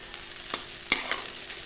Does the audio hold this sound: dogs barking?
no